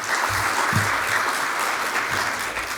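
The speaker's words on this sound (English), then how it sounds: "Agarwal, who's shaping up Marjan Island, a big round of applause." Audience applause at an investment event, steady dense clapping from a large crowd, moderately loud and unbroken throughout.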